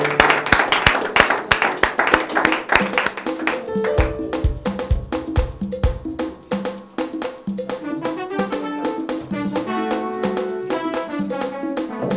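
Church congregation clapping to acclaim the Lord, a dense burst of applause at first that settles into rhythmic clapping over music with tonal notes.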